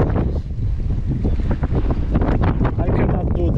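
Strong wind buffets the microphone on an evening bike tour in Den Haag, a loud, steady, roaring rumble with no breaks throughout.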